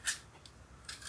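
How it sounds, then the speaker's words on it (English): Apples being peeled with a potato peeler: two quick, faint scraping strokes about a second apart, with near-silence between them. "I'm just going to take my potato peeler and we're going to peel these"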